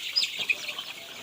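Chickens clucking and chirping close by, a few short bright calls in quick succession over faint rustling, with no voices.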